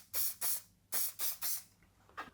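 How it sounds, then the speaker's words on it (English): Hairspray from an aerosol can misted onto a man's freshly cut straight hair in five quick, evenly spaced hissing bursts, then a shorter sixth puff, close and clear with no talking. "all we do is finish off with some hairspray"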